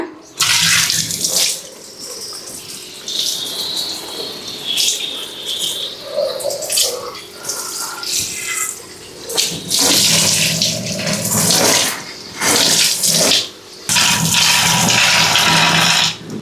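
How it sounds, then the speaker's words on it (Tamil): Water runs from a kitchen tap while a sink is washed, a steady loud splashing stream that swells and breaks as it hits the basin and dishes, with brief pauses. "சிங்க் கழுவி விட்டாச்சு அழகாக க்ளீன் பண்ணணும்னு பாருங்க"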